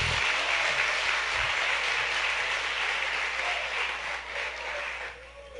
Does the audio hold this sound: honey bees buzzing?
no